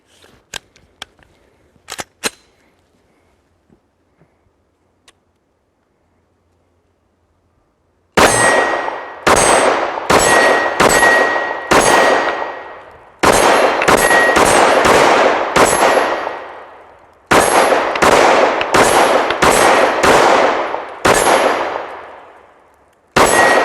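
A Glock pistol fitted in a CAA Micro Roni fires loud, sharp shots in quick strings, each ringing off steel targets, after a few faint handling clicks and a quiet pause.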